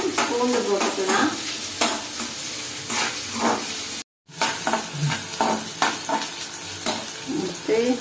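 Onions sautéing in a pan for a Tamil potato and capsicum stir-fry: a steady sizzle with repeated scraping stirs throughout, briefly cutting out near the middle before the frying and stirring resume.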